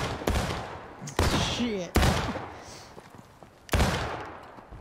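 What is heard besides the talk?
musket volley gunfire in the video game War of Rights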